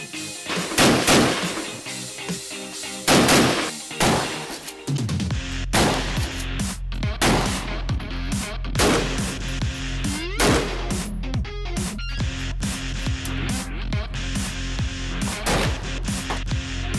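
Outdoor gunfire at a shooting area, a long sequence of loud sharp reports echoing, at first spaced a second or so apart, then coming in a rapid, steady string.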